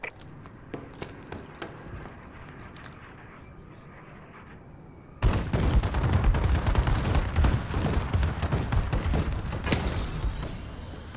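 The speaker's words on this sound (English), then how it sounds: "Friendly bombing run clearing the way." Bombing run and gunfire in the video game Call of Duty: Advanced Warfare: scattered crackling shots give way midway to a dense, loud roar of explosions and rapid fire that continues to the end.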